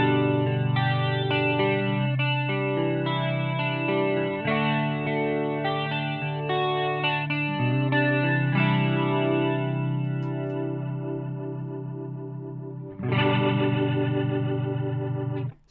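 Clean electric guitar chords through a Strymon Lex rotary pedal in bypass, ringing out and sustaining, played clearly with no added effect, then a fresh strum near the end.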